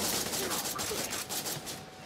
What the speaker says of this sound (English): Oh, it's burst fire.